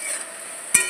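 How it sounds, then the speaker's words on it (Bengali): Fish curry masala with turmeric and salt being sautéd for chital kalia, giving a steady sizzling hiss with a single sharp scrape or stir near the end, close and alone. "পরিমাণ মতন হলুদ, পরিমাণ মতো নুন, ভালো করে একটু কষিয়ে নেব।"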